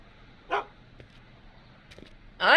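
Dog barks from the Back to the Future video game, two short yaps about two seconds apart with a softer sound between, moderately loud over a quiet background.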